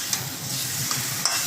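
Fried hilsa fish heads and pieces being stirred into a pan of cooking taro (kochu) leaves, with a steady sizzle and a few soft scraping clicks of the spatula up close.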